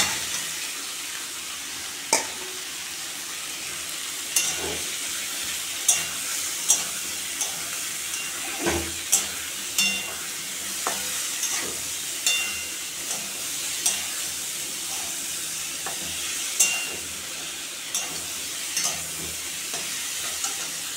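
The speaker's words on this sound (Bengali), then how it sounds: "এখন আমি চাল কুমড়োগুলো দিয়ে দেব।" Ash gourd pieces with a hilsa fish head sizzle steadily in a pan while a spatula scrapes and stirs at regular intervals, close and moderately loud, with no talking.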